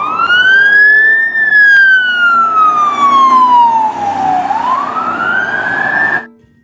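A toy police car siren wails loudly and up close, its tone sweeping up, gliding slowly down, then rising again before cutting off abruptly.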